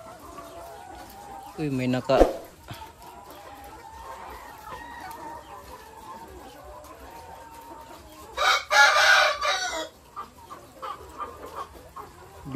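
Chickens at an egg layer farm cluck and crow with a low hum of the flock underneath, a rooster call rising clearly near the end, while a person speaks briefly nearby.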